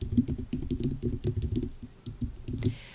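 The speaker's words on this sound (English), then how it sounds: "I'm going to put in quotation marks, type in Southeast." Rapid typing on a computer keyboard while entering an Excel formula: a quick, uneven run of close, crisp key clicks with a few brief pauses.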